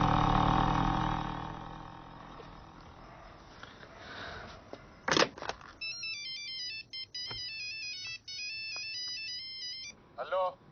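A phone ringtone plays a repeating electronic melody for several seconds after a sharp noise, set in a Hindi-speaking scene where talk and other sounds fill the start before the ringing begins.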